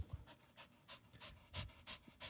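A dog pants in quick, regular breaths, each exhale a soft airy burst, steady and fairly close in a quiet room with no talking.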